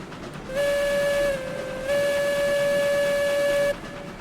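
A steam locomotive whistle sounds from RailRoads Online, a loud sustained tonal blast over a hissing background that dips briefly in pitch and then holds for about three seconds before cutting off.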